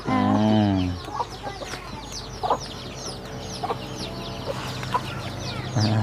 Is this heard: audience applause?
no